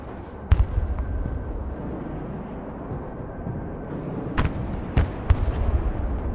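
Several 1,000-pound JDAM airstrike explosions in the game Broken Arrow go off as sharp, heavy booms, one early and a cluster near the end, over a steady rumbling battlefield bed.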